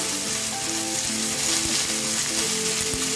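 Chicken sautéing in a hot pan for kola urundai, a loud, dense, continuous sizzle with faint stirring knocks, close up and with no talk.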